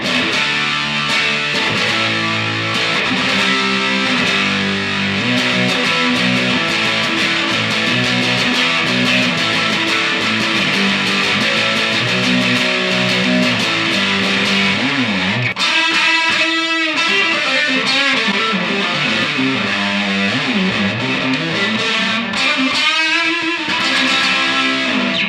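A cheap electric guitar through a RAT distortion pedal plays chords and riffs, thick and saturated, with a constant hiss of noise underneath and brief pauses between phrases.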